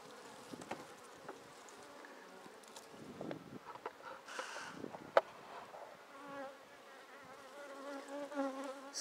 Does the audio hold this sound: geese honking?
no